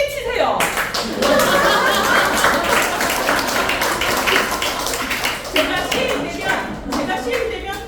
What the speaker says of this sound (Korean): 박수 크게 치세요